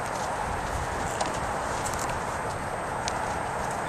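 Andalusian mare walking off alongside her handler: soft, regular clip-clop of hooves under a steady broadband background hiss, moderately near and fairly faint.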